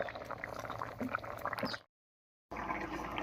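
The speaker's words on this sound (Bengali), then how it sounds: "এবার শাকটা সেদ্ধ হওয়া পর্যন্ত এভাবেই রান্না করে নেব" Bottle gourd greens (lau shak) simmer in a pan with a soft, steady bubbling and hiss, close up, broken by a brief moment of silence before the sound resumes.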